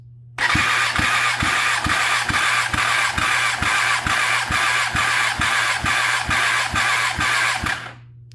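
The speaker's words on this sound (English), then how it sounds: "cylinder number 4 and final. Starting from 0, let's go ahead and crank it, see what she gets" A Kawasaki ZX10R motorcycle engine cranks over on the starter during a compression test of cylinder four: loud, close, evenly spaced chugging pulses for about seven seconds, then it stops. No one speaks.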